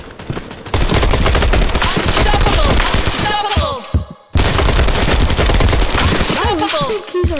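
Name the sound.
gunfire in Spark VR video game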